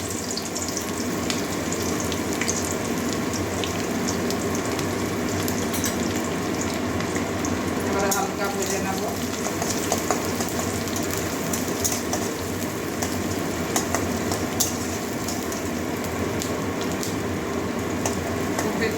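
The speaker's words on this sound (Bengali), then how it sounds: "ভাজবো না পেঁয়াজটা হালকা ভেজে নেব" Chopped onion frying in a pan for a bitter gourd charchari, a steady, dense sizzle and crackle running continuously throughout at moderate loudness, with no voices.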